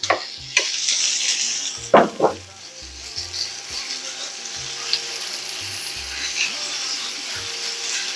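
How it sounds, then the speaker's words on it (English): Ground meat fries in a pan with a steady close sizzle, broken by a few sharp scrapes and knocks of stirring, while a low hum runs underneath. "You have to continue stirring the meat."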